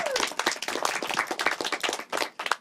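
An audience claps for a songwriter being introduced at an event, a quick run of sharp, close-sounding hand claps with a spoken voice over them, the rhythm somewhat uneven and broken by brief gaps.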